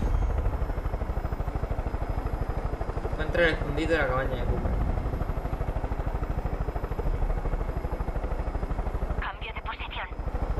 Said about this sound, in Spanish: ¿Dónde aparcamos el helicóptero, tío?